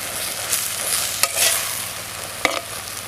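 Chicken is stirred into gongura paste in a pan, with a steady frying sizzle and a few sharp scrapes and knocks of the spoon against the pan, close and fairly loud.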